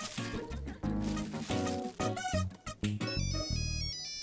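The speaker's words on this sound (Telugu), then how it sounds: "ఫోన్ మీకే వచ్చింది." A phone ringtone plays as a loud, continuous melodic electronic tune, with steady repeating notes and chords filling the whole stretch, alone without talk.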